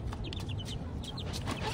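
Chickens cluck and call repeatedly over steady farmyard background noise while being hand-fed by a child, the short bird calls rising and falling close by.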